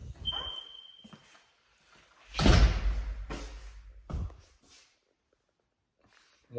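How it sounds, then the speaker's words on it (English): A garage door in a rehabbed Tucson, Arizona home rumbling and thudding as it moves, with a loud heavy middle stretch, a sharp knock after, and quiet gaps around it. "Garage door."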